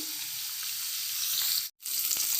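Rohu fish frying in hot oil, a steady broadband sizzle that runs continuously at close range, broken by a brief silent gap near the end before the crackle resumes.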